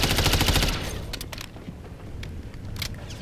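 Rapid gunfire in Modern Warfare III Season 3 multiplayer, a dense burst of automatic shots opening loud and close, then a few sparser cracks trailing off amid game background noise.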